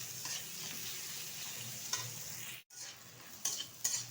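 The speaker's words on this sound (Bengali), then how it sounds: "পেঁয়াজটা কিন্তু সুন্দরভাবে ভাজা হয়ে গেছে।" Onions frying in a pan and being stirred, a quiet steady sizzle with occasional scraping strokes and a short break partway through.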